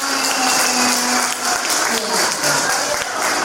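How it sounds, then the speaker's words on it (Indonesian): Applause for a guest on a school podcast with alumni of a Catholic junior high school, a dense, steady patter of many hands clapping up close, filling the whole moment with no talk. "kita beri tepuk tangan dulu Kak."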